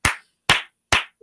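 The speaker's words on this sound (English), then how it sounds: "Let's clap your hands" Three sharp, close hand claps, evenly spaced about half a second apart, with silence between them.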